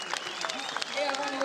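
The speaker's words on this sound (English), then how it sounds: "Big cheer from the Ferrari fans in the crowd." Ferrari fans in the grandstand applaud and cheer at a GT World Challenge race at Magny-Cours, a continuous clatter of clapping that sounds somewhat distant, heard under a commentator's talk.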